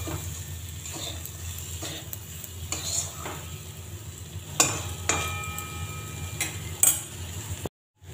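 Green moong dal with chopped coriander leaves stirred in a pan over a low sizzle, with repeated scraping strokes and sharp metal clinks of the spoon against the pan; the sound cuts off abruptly near the end.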